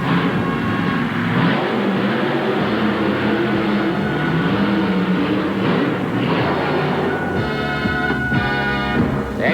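A 1988 Ford-bodied monster truck running a Chevrolet engine with fuel problems at a St. Paul, Minnesota arena show, its loud engine surging and sputtering unevenly, with rough revs and brief harsh bursts near the end.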